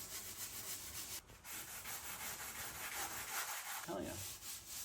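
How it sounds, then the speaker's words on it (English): A surface being sanded by hand during a restoration, a steady faint scratchy rubbing that continues throughout with small pauses and shifts in stroke, close by with no talking. "Sanding on it."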